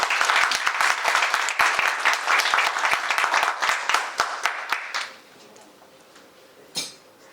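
Audience applause at a tooling program completion ceremony, a burst of many hands clapping for about five seconds before fading out, followed by quiet room tone and a brief thump.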